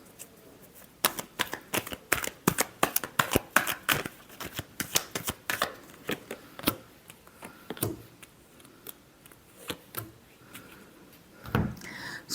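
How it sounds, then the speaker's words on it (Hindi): Tarot cards being shuffled by hand, a rapid run of crisp riffling flicks and taps that is dense early on, then thins into scattered single snaps, close and fairly quiet. "Last shuffle."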